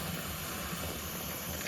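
Steady steam hissing from a pressure cooker as plum jam cooks, a continuous broadband rush with low rumble underneath, moderately loud and unbroken for the whole moment.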